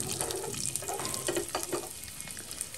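Raisins frying in ghee for shahi carrot halwa (gajar halua), a steady close sizzle with soft bubbling crackle throughout, fairly quiet and without talk.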